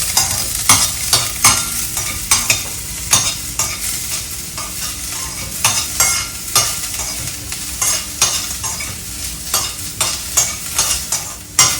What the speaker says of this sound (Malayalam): ഞാൻ ഇത് ഒന്നിച്ചിട്ടിട്ട് നന്നായിട്ട് ഞാൻ വഴറ്റാൻ പോവാണ്.